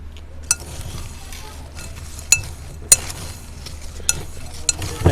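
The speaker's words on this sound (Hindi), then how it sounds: "इसको हम अच्छी तरह मिक्स कर लेते हैं।" A spoon stirs white pulao masala spices in a bowl, giving soft scraping with scattered sharp clinks against the side at irregular moments.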